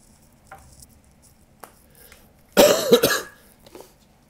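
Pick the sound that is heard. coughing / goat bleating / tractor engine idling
coughing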